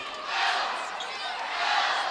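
Crowd at a girls' high school volleyball state final roaring a chant for player Mel, a loud sustained cheer from a packed gym swelling twice across the moment.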